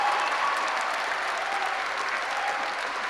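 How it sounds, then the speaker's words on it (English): An audience at a university graduation ceremony applauding the graduating students: dense, sustained clapping from a large crowd in a hall, even and unbroken from start to finish. "let's make a big noise, go nuts and clap loud for all our graduating students"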